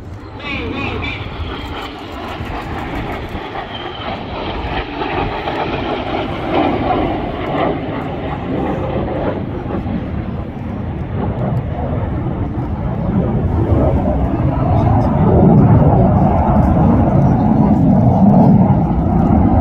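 Red Arrows jets fly an aerobatic display at the Midlands Air Festival 2024. A broad, continuous jet roar builds steadily louder toward the end, with a voice audible beneath it.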